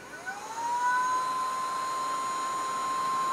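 A handheld ear wax vacuum device runs close to the ear. A whirring motor rises quickly at switch-on, then holds a steady high-pitched whine with a hissing airflow underneath.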